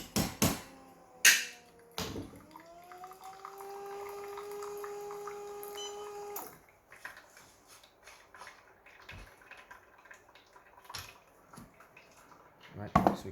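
Group head of a VBM Domobar Super Electronic espresso machine flushing water, a steady hissing rush with a pump hum lasting several seconds, bracketed by clanks and handling knocks before and after.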